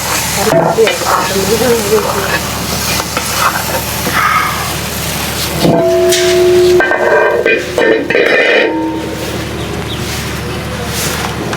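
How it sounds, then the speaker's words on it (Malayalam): Mustard seeds sizzle and crackle loudly in hot oil, a steady, dense frying hiss with stirring and occasional spatters, close up throughout. "നമ്മുടെ കടുക് താളിച്ച് ഇതിൽ കൊട്ടിക്കൊടുക്കാം"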